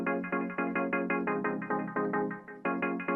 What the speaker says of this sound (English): this is a serum, yeah, pretty much just an analog sine that kind of filters in as it approaches